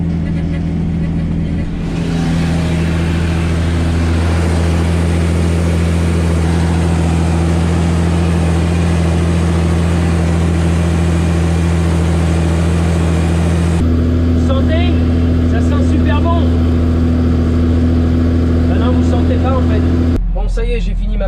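Heavy farm tractor engine droning steadily while pulling a plough across a field, a loud constant hum with a shift in tone partway through and a brief change near the end.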